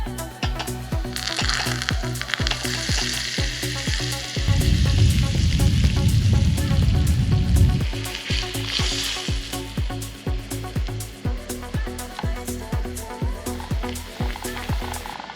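Bay leaf sizzling loudly in very hot oil while making chilli oil, a steady close crackle that swells into a denser burst midway as it is stirred gently, with soft clinks of the utensil throughout.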